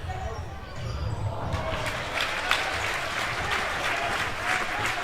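Spectators at a men's futsal Euro qualifier between England and Switzerland applaud steadily indoors, a broad wash of clapping that swells and holds throughout with an announcer's commentary over it.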